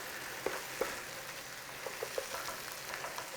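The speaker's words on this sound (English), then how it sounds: "Let's just give that a stir because we don't want anything to catch on the bottom" Paprika, cumin and other spices sizzle steadily in a pan over a low flame, a soft continuous frying hiss broken by a few faint clicks and scrapes as they are stirred.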